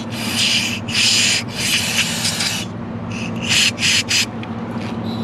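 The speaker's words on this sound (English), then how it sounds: "we're just gonna blow this out with brake clean" Brake cleaner sprayed to blow out a fuel injector area on a 2003 Ford F450 with a 6.0 engine, several loud hissing bursts of varying length, close up, over a low steady hum.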